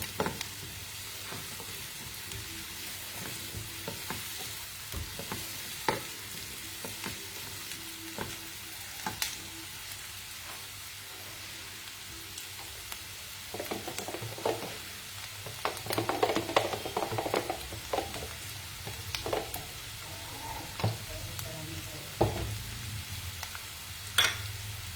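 Food frying in a pan before tomatoes go in, a continuous crackling sizzle with scattered sharp spits and stirring scrapes, louder bursts in the middle, no talk.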